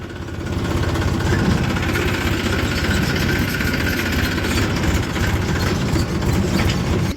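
A vehicle engine runs steadily on a drive through village lanes out to farm fields, a loud, continuous low rumble with a slight knocking throb and no pauses or voices.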